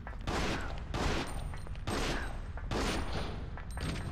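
Gunfire in the video game Resident Evil Outbreak File 2, four loud, dense bursts of rapid shots, each about half a second long, separated by short gaps, with no talking.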